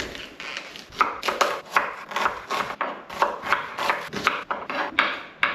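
A knife chops three tiny onions on a board, a brisk run of about a dozen sharp, close knocks at an uneven rhythm, heard alone with no talk.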